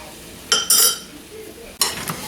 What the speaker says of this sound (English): Just kind of come back to it and give it a little swirl like that.